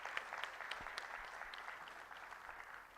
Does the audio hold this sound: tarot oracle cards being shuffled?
no